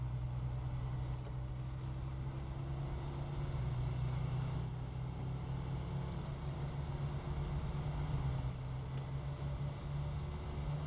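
A truck engine in the off-road driving game SnowRunner drones steadily and loudly at a low pitch throughout, with no breaks or voices.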